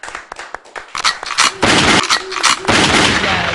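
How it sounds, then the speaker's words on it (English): A rapid burst of gunshot sound effects at a hip hop podcast show, sharp cracks that start sparse and thicken into dense, loud, overlapping gunfire blasts. "Yes, gunshot, rewind."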